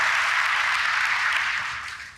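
An audience at the Oracle AI World 2025 keynote breaks into applause, a broad, smooth wash of many hands that holds steady and then gradually fades toward the end.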